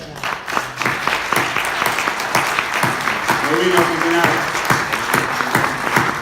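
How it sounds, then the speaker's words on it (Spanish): A church congregation bursts into sustained applause, loud and close, with individual claps standing out in a broad wash while a voice speaks over it and others call out. "Esto merece un aplauso."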